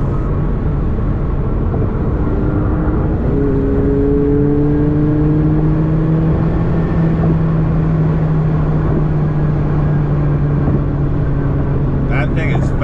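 McLaren 720S engine roaring as the car accelerates hard on an open road, heard from inside with loud rising whine and gear changes over about thirteen seconds, with a person talking over it.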